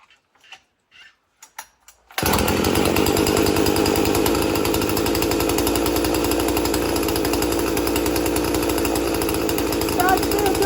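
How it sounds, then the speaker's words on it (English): A small Husqvarna 240 chainsaw starts after a few faint knocks and then runs steadily and loudly at close range, a dense buzzing engine drone that holds for the rest of the stretch. "the little Husqavra 240 runs like a champ"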